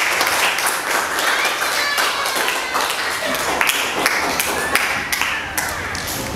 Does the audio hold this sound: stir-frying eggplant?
no